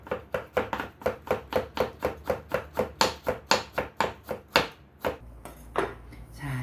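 Gloved hand slicing beetroot thinly with a knife on a board: a steady run of about twenty crisp, evenly spaced chops, close and clear, then a brief pause and a few softer cuts.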